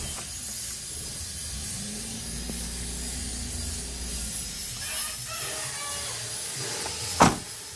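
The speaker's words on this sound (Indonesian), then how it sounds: "ini sudah nyala mesinnya, engine-nya sudah hidup" A car engine idles steadily after starting during radiator draining work, a low continuous hum with faint mechanical ticking and a brief sharp knock near the end.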